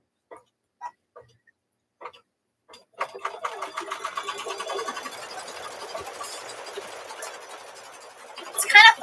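Embroidery machine stitching a shirt design onto a baby bib, starting after a few faint clicks with a steady, fast mechanical rattle of needle strokes that continues close and moderately loud.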